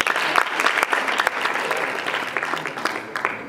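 An audience applauds at a live comedy show in Rwanda, dense clapping sustained throughout with sharper individual claps poking out, fairly close and loud, no talking over it.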